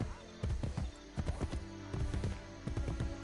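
Horse hooves in Assassin's Creed Brotherhood clop in short rhythmic clusters of beats, moderately close, with brief gaps between the bursts.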